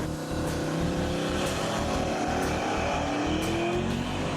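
A turbocharged car accelerates hard, its engine building into a loud, sustained roar with rising tones, heard close and steady with no talk over it.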